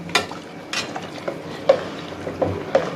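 A spoon stirs spicy egg pulao in a pot, giving a few soft scrapes and light clinks at irregular intervals, close by over a faint background.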